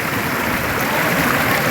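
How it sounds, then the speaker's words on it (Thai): A forest waterfall pours steadily, a dense broadband rush of falling water that stays loud and even throughout with no break. "น้ำตกซับพี่น้อง"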